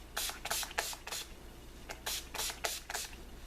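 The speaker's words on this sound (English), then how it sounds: "So I'm going to go ahead and spray my face." A series of quick, hissing spray bursts of makeup setting spray misted onto a face, several in a row with brief pauses, close and crisp.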